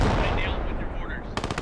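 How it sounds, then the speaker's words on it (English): Mortar fire striking a building in Post Scriptum, a loud dense rumble of blasts followed by a few sharp cracks at the end. "We're hitting it with mortars."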